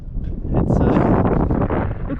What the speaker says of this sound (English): now I'm going to freeze with all the wind outdoors